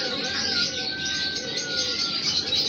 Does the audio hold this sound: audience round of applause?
no